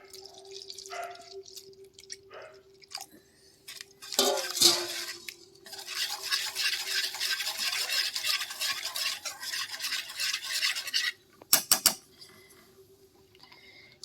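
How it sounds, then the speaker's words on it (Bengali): Fresh chhana being stirred and mashed with milk in a pan for sandesh, giving a steady wet squelching and scraping that runs for several seconds, bracketed by a few sharp utensil taps. "দুধ দিয়ে ভালো করে ছানাটা মিশিয়ে নিতে হবে।"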